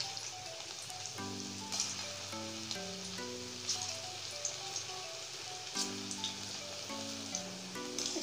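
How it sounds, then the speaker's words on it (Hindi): Pakoras frying in hot mustard oil give a soft, continuous crackling sizzle, faint beneath a louder melodic music track. "तेल हमारा गर्म हो चुका है, इसमें हम अपनी पकौड़ियाँ फ्राई कर लेंगे।"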